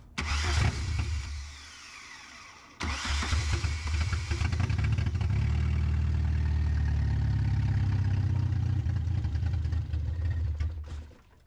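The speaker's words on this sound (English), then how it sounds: "Well, we got a runner. A loud runner." A 1990 Volkswagen MK2 Jetta GLI, sitting for 13 years, cranks and fires, sputters briefly, then restarts and runs loud and rough with a heavy, steady exhaust roar close by until it cuts off near the end.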